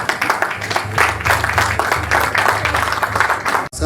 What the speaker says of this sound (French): Je pense que ça mérite des applaudissements pour nous-mêmes.